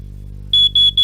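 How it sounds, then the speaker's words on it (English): A smoke alarm sounds in a winter fire safety radio message, giving a shrill, piercing tone that starts after a low hum and repeats as three loud beeps with short gaps between them. "a smoke alarm"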